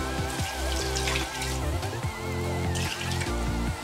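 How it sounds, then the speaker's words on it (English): Water is poured or splashed into a pot of Ghanaian okra stew with a series of liquid plops and bubbling gurgles, close and fairly loud, over a steady background hum, with no talk. "So I'm adding enough water to make the shaki cook."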